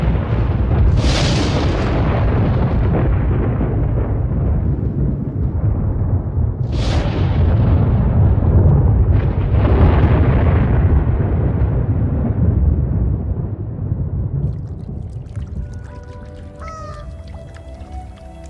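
A thunderstorm rolls over the Makgadikgadi pans, with deep sustained rumbling and several loud thunder cracks breaking through, then fading toward the end where lighter sounds emerge.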